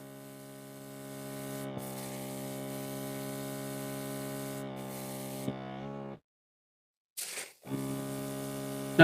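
A Gaahleri TurboX Mini airbrush with a 0.35 mm needle and nozzle sprays gray Kaleido primer in a steady hiss with a hum underneath, broken by a few short stops and one longer pause before spraying resumes.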